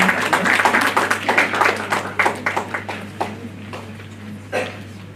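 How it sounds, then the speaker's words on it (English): An audience at a healthcare management seminar in a hotel applauds to welcome a university dean, with sparse individual claps thinning out over a low steady hum and fading toward the end. "please welcome him with a round of applause"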